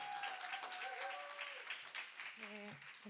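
A church congregation claps to welcome a speaker, making a steady wash of applause from many hands that runs throughout, with a voice talking over it toward the end.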